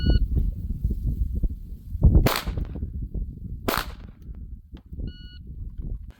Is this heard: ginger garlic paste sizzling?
no